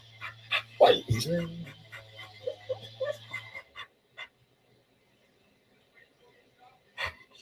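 A dog pants and snuffles close by with a few quick breathy huffs, while a person talks over it; a faint electrical hum underneath, then near silence.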